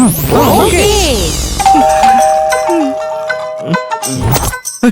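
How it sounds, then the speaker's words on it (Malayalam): A doorbell rings loudly in a dubbed film scene, repeated ding-dong chimes with sustained ringing tones across the clip, mixed with background music and brief voices. "എടാ കോളിംഗ് ബെൽ അടിക്കുന്ന വിടറാ"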